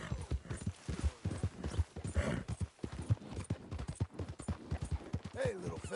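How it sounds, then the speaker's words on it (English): Horse hooves clip-clop steadily in the Red Dead Redemption 2 video game, a rhythmic near trotting beat running under a voice talking to the horse. "You're quite the horse."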